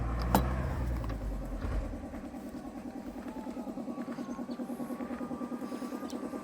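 A 4x4 tractor engine, model 6640, runs at idle after an initial burst, producing a steady rapid throb with rhythmic pulsing, moderately close and fairly quiet, with no talking.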